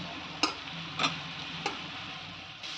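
Potatoes fry in a spice paste of green chilli, ginger, chilli, cumin and coriander powder for koi fish curry, a soft low sizzle broken by three sharp spoon knocks against the pan, near and wordless.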